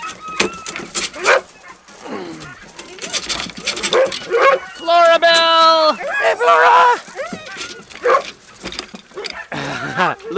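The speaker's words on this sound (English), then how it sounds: "Good doggies." Several dogs bark, yip and whimper excitedly after a training session, close by, with a person talking over them to calm and praise them.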